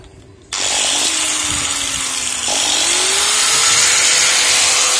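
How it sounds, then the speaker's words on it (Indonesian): Angle grinder powered by a portable power box battery in a campervan setup: a sharp click, then a loud, steady high-pitched motor whine that dips briefly and climbs back up, running alone close by. "Saya coba menyalakan gerinda ini tanpa pakai PLN ya guys."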